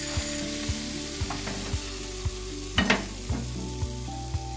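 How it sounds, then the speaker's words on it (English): Beef mince fries in a pan with a steady close sizzle, joined by regular soft clicks and scrapes of stirring about every half second and a louder burst near the middle. "As the mince cooks, it releases juices that can be used to enrich the dish further"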